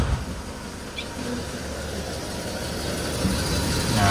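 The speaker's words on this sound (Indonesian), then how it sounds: "Nah ini mesinnya" A stock car engine idles steadily in the morning after starting, a low continuous rumble holding at an even level throughout.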